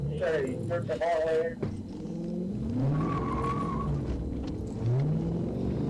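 A Ford Mustang swings through a U-turn while fleeing Arkansas State Police at high speed, its engine rumbling and tires squealing briefly, all under someone talking over it.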